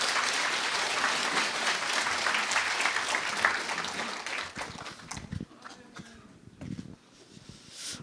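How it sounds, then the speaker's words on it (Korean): Large audience in a packed hall applauds to welcome a district mayor before a lecture, dense clapping for about four seconds that thins into scattered claps and rustling. "큰 박수로 맞아주시기 바랍니다"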